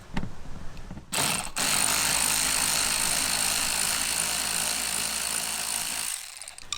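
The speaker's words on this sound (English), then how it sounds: "there's also a 10mm bolt you have to remove on the bottom. So I have a ratchet," A ratchet works a 10mm bolt loose from under a car, giving a dense, loud, fast mechanical clatter that runs steadily for several seconds close by after a brief start, then stops.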